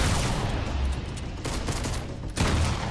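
Rapid, dense gunfire rattles from a gun in a video game, a loud continuous burst with sharp surges near the end and no talking over it.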